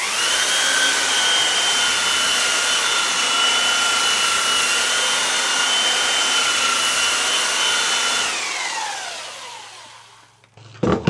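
A steady, loud grinding whine of a belt sander running against a stainless steel platen for several seconds, then spinning down and fading out near the end.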